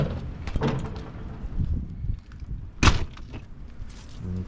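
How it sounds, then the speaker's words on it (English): Side RV door of a custom Kenworth toterhome opening, with a sharp latch clunk in the middle of scuffling and rattling handling noises, close by and without talk. "So this is our side RV door."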